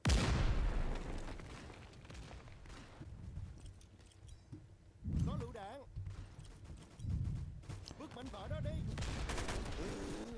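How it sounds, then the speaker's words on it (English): Gunfire bursts and a grenade blast ring out in the Roblox game Unit 1968: Vietnam, loud and close at the start, then erupting in repeated heavy bursts while a player talks excitedly over the action. "I threw a grenade."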